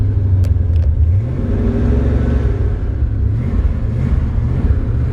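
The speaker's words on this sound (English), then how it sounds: "Just real quick, I want you to hear this engine." A 1970 Camaro RS/SS engine running, a loud steady low rumbling idle with a slight swell in revs, heard up close with no one talking.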